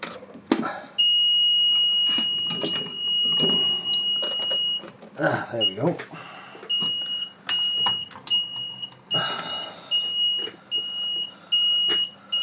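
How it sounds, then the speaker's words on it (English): A soldering station with a chisel tip sends out repeated high, steady beeps in regular bursts as it warms up, close by, while someone speaks briefly between them. "Stand by for a lot of beeps."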